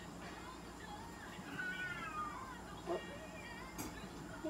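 A mixed-breed cat meows in a drawn-out, wavering cry, followed by a couple of shorter calls, all close by and set against the steady roar of a hair dryer during grooming, with a person speaking softly.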